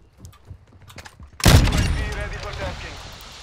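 An Intervention sniper rifle fires in Call of Duty, one sharp, loud, close shot whose booming report rings out and decays over a couple of seconds, with faint game sounds before it.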